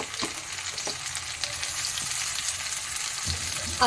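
Ginger sizzles and crackles steadily in hot oil in a pan, a continuous near fry broken by a few soft clinks of a utensil, with no voices.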